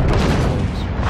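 Battleship Grosser Kurfürst fires its main guns in a naval video game, a single loud, sustained booming blast close up with no voices.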